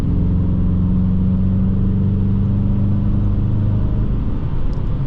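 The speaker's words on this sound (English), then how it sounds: "Listen to that exhaust notes." A Dodge Challenger RT rumbles with a deep, steady exhaust drone as it accelerates on the road, loud and continuous with no talking over it.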